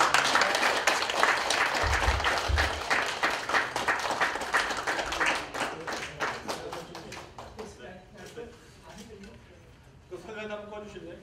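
Audience at a Korean unification policy briefing breaks into loud, sustained applause, dense clapping fading over several seconds before a brief renewed burst, with a voice speaking over part of it.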